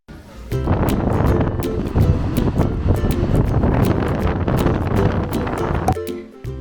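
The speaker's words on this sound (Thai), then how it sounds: "ได้ยินเสียงลมอันนั้นกันใช่ไหมคะนั่นแหละลมไอซ์แลนด์นะคะ" Strong Icelandic wind buffets the microphone in a loud, continuous roar with gusty rumbles that hold for several seconds and then drop off abruptly.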